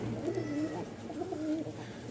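A male pigeon coos in a low, throaty, repeated rolling call, two phrases close by over a steady background hum.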